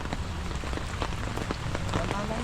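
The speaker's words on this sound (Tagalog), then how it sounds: "Lakas po ng ulan dito sa Bulacan eh." Steady, dense heavy rain pours down hard in Bulacan, a constant loud hiss with scattered drops pattering close by.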